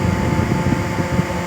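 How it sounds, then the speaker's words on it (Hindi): An air cooler and an electric fan run together indoors, giving a steady, close, continuous low whirring hum of moving air with no talk over it. "कूलर चल रहा है, पंखा भी चल रहा है,"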